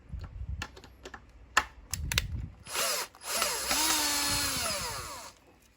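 A few light metallic clicks and taps come first as nuts are loosened from a roller blind rail. A short burst of whirring power-tool noise follows, close and fairly quiet.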